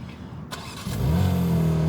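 A BMW G80 M3 Competition fires up by remote start: a short quiet lead-in, then the starter catch and a loud, rising engine roar that settles into a steady, close, high idle.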